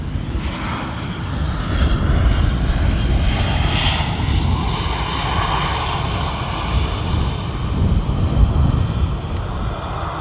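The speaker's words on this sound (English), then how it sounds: "you got these beautiful landings on the Schiphol Airport runway, and it is just a beautiful touchdown" Steady broadband roar of a fixed-wing airliner landing on a runway at Amsterdam Schiphol Airport, heard at a distance with light wind noise, holding a continuous rumble that swells slightly toward the end.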